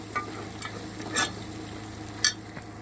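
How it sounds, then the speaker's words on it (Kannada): Coriander leaves and kasuri methi fry quietly in a pan for vegetable biryani, a soft low sizzle broken by a few brief scraping stirs, close and fairly faint, with no talking. "ಕೊತ್ತಂಬರಿ ಸೊಪ್ಪು ಮತ್ತು ಕಸೂರಿ ಮೆತ್ತಿ ಎರಡನ್ನೂ ಹಾಕ್ಬಿಟ್ಟು ಒಂದೆರಡು ನಿಮಿಷ ನೀಟಾಗಿ ಫ್ರೈ ಮಾಡ್ಕೊಳ್ಳಿ"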